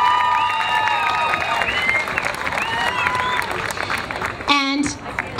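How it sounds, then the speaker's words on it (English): Crowd at the 2010 Light the Night Walk in Philadelphia claps and cheers, a steady wash of applause with scattered voices and whoops running throughout. "so give them a round of applause"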